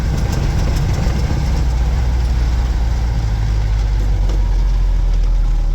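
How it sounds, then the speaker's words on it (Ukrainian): Combine harvester engine pulling hard in fourth gear across a field during harvest, carrying about 6.5 tonnes, a loud, continuous, close diesel drone with a steady rumble throughout. "Я просто тільки кайфую від цього мотора."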